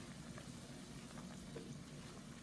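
A pot of dried pollock and bean sprout soup being stirred, heard as a faint, steady simmering and bubbling with soft stirring motion and no talk.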